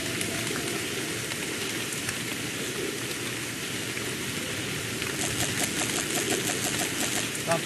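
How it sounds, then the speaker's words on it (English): Steady rain falls at night in a dense, even hiss, close and constant throughout, with no talking. "it's raining"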